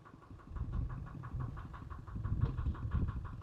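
A tractor engine runs at idle, a low steady chugging with a regular pulsing beat, moderately close and without any voices over it.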